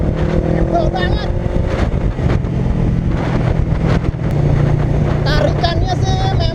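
A Honda Rebel 500 motorcycle pulling at low revs through city traffic, its steady engine drone heard under wind buffeting and someone speaking throughout.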